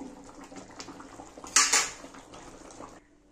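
A spoon scrapes and clinks around a pan as fish curry is stirred, giving soft repeated scuffs with one brighter metallic clatter near the middle, up close.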